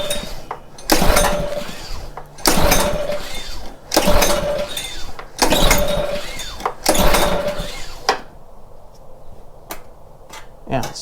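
A Karcher pressure washer engine being pull-started, five sharp rope-pull bursts in a row, each a brief rattling crank that fails to catch, followed by quiet.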